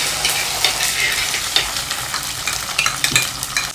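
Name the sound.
curry leaves, garlic, ginger, chilli and onion frying with mustard seeds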